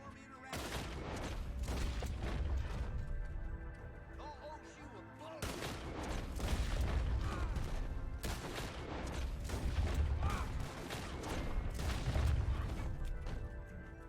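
Shotgun-style revolver pistols blasting in a first-person shooter, heavy booming shots fired in rapid clusters with short pauses between volleys, loud and close, with someone talking between them.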